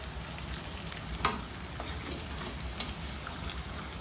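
Chicken karahi with spices being stirred in a pan, giving a steady close sizzle of frying with a few scraping stir sounds over it and no talking.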